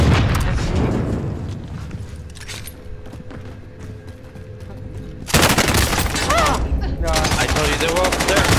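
Dense Call of Duty Warzone gunfire crackles loudly, with rapid automatic bursts that fade to a lull before a heavy, sustained volley resumes; game voices and effects sit in the mix.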